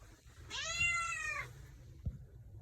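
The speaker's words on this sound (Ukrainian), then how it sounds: "Коти чекають їду." A single clear meow from a house cat waiting to be fed, close and fairly quiet, lasting about a second, followed by a soft thump and stillness.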